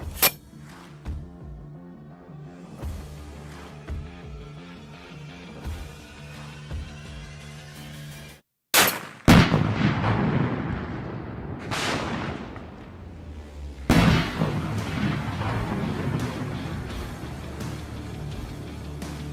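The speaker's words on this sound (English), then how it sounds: "God damn, did you see that explosion?" A .50 caliber gun fires, followed by explosions: sharp reports, then two loud booms that roll and rumble off into a long decaying tail, heard close with no speech.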